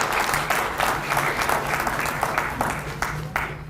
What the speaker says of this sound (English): we should give a round of applause to everybody who came up to speak today